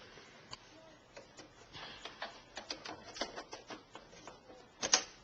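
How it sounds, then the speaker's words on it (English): A sewing machine top-stitching a maxi dress with black thread, heard as quiet, irregular mechanical clicks and short whirring bursts, close and faint, with a louder cluster near the end and no talking. "I'm going to top stitch it on the top."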